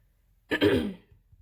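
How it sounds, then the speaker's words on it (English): A single close, harsh throat clearing lasting about half a second, followed by quiet. "I keep clearing my throat"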